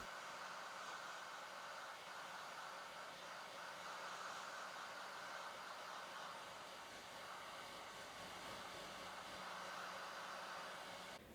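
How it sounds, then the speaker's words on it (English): A hair dryer blows steadily, giving a constant whirring hiss that stays level from start to finish with no other sounds. "I used the hair dryer to warm them up."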